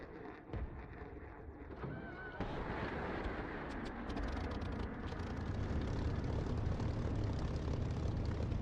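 An aircraft engine in a flight simulator game coughs and starts, then builds to a steady, loud roaring drone as the throttle is opened, growing denser toward the end.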